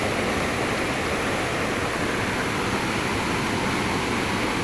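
Strong, steady rush of river water flowing at a fishing spot, a dense continuous roar that stays even and close throughout, with no voices.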